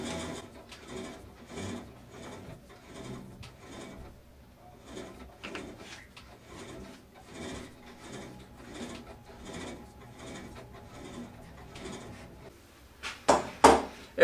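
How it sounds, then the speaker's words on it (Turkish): Hand knurling of metal with an articulated knurling tool: a steady series of rhythmic scraping, rasping strokes, close and moderately quiet, ending with a few sharper clanks. "Burada elimle tırtıl çekmeye başladım. Her çekişte tekerleği birazcık daha sıkıyorum."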